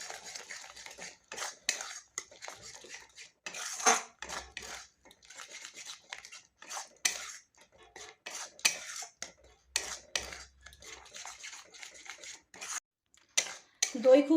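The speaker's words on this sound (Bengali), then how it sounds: "আর দইটা খুব ভালোভাবে মিশিয়ে দিতে হবে।" A spoon stirs strained, whisked yogurt into masala in a pan for paneer masala curry, giving intermittent scraping and clinking strokes at close range, with soft rustles between them and a brief heavier scrape near the end.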